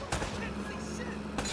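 Gunfire in the video game Uncharted: Drake's Fortune, with two sharp, loud shots about a second apart set against a rumbling game backdrop and character voices.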